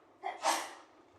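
A brief, soft sneeze during a planning and zoning meeting, a quick breathy intake followed by a muffled burst, fairly distant and quiet in the room.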